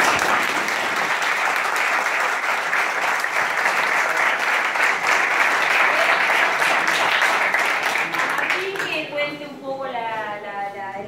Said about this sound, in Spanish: le voy a dar un aplauso